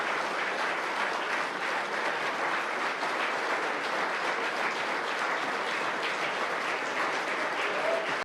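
A large conference audience claps in sustained, even applause, a dense wash of many hands that holds at a steady level before cutting off at the very end.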